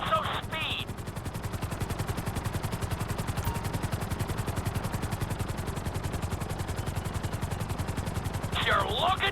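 A helicopter flies in the Grand Theft Auto 5 video game, with a steady, fast rotor thump holding loud and constant throughout and brief higher electronic tones at the start and end.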